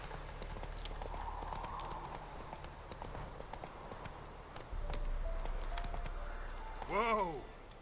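Geralt's horse Roach gallops in The Witcher 3, a steady clip-clop of hooves running under game ambience, with a louder rush near the end and a brief voiced cry over it.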